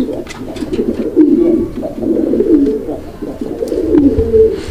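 An Indian Bombay pigeon at a Bangladesh pigeon farm coos loudly and close by in repeated rolling phrases, each swelling and fading, with no talk over it.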